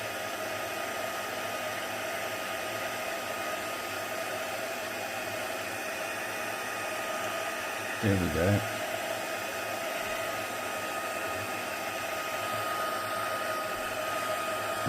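A heat embossing tool blows a loud, steady rush of hot air over embossing powder on a card, holding constant for the whole stretch. A person briefly speaks partway through.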